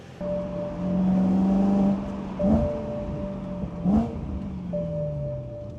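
BMW E9X M3 fitted with an upgraded exhaust accelerating on a test drive, its engine droning steadily and rising in pitch through a couple of gear pulls, loud and close, with no talking.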